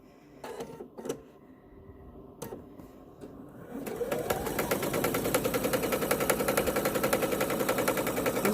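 A sewing machine set to a short stitch length sews a double fold binding strip. A few handling clicks come first, then a close, steady, fast mechanical run that continues to the end.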